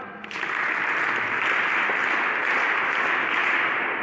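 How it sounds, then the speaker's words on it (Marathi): An audience claps together at a talk honouring work for tribal children's development, dense steady applause that starts abruptly and holds loud and even throughout. "पुन्हा एकदा टाळ्या वाजवा."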